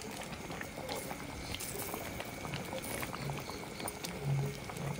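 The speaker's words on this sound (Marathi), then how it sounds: "लगेच आपली क्षणात उकळी इल्लेली असा" A pot of crab curry at a rolling boil, a faint continuous bubbling patter close by with no voices.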